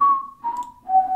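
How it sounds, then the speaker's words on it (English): A person whistles three short, clear notes close by, each stepping slightly lower in pitch. "Who's whistling?"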